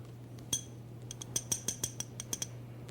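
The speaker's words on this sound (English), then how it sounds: "Put your ear in the empty glass and tap on it with the back edge of a knife." The back edge of a knife taps an empty glass about a dozen times in an uneven rhythm, each tap a bright, ringing clink heard up close over a faint steady hum.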